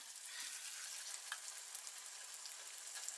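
Eggs fry in a pan with a soft, continuous sizzle and fine crackling, faint and steady with no voices.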